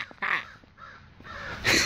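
Crows caw from a tree in a few loud, harsh bursts spaced irregularly, the last call the strongest, with nothing else around them.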